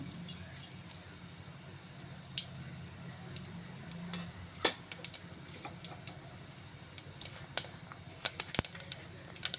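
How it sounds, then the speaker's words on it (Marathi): Cumin and mustard seeds splutter in oil, with sharp irregular pops and ticks over a low steady hiss, growing busier toward the end. "जिरा आणि मोहरी तडतड झालेली आहे."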